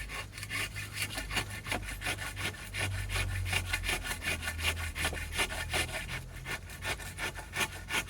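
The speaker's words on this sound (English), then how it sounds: "Get our Shinto rasp, Farrier's rasp. We get the rasp, the almighty rasp." A farrier's rasp shapes a wooden stick for stick making with fast, rhythmic rough scraping strokes, close and steady, with no voices.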